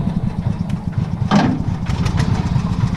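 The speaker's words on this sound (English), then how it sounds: "See, it's idling right now." A Cushman Truckster utility vehicle's small engine cranks and catches, then settles into a steady, low idle close by.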